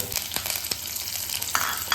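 Curry leaves, ginger and green chilies sautéing in hot oil over a medium flame for a South Indian coconut chutney tempering, giving a steady close sizzle with crisp crackles and occasional sharper pops.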